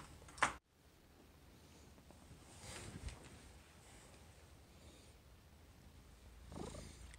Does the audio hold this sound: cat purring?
yes